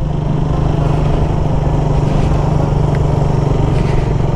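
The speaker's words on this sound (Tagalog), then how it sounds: "Gusto ko lang mag-stroll gamit itong Raider na to." A Raider 150 motorcycle drones steadily while being ridden, its engine giving a loud, close, constant rumble with a fine rapid pulse and no pauses or speech.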